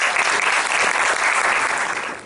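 Audience applause fills a graduation event hall, a dense steady wash of clapping from a crowd that holds evenly for about two seconds before easing slightly at the end, with no voices above it.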